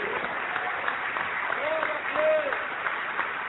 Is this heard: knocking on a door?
no